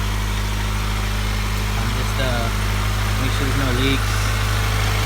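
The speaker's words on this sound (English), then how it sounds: "The car's on." Honda Civic hatchback engine idling after a tune-up with new spark plugs, a steady low hum running throughout while someone talks nearby.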